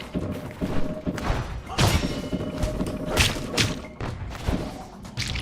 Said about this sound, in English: the second one of those cannonballs hit you, it deletes all your inputs